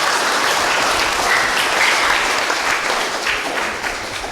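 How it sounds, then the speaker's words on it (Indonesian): Steady, dense applause fills a church during a Catholic Mass celebrating First Communion and adult baptism, a broad continuous clapping from the congregation that holds loud throughout and eases slightly near the end. "Kita tepuk tangan buat anggota kor."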